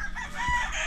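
A rooster crows briefly on a farm where fighting cocks are kept on perches, a short, bright call that rises over a steady low background rumble.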